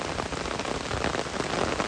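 Rain falls steadily outdoors in the countryside during rice-planting season, a close, fairly loud, uneven pattering hiss on surfaces with no voices over it.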